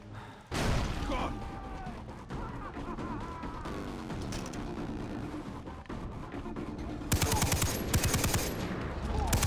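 Gunfire in the video game Far Cry 3: bursts and sharp shots crack over a steady wash of game noise, growing louder and denser toward the end, with a voice talking over parts of it.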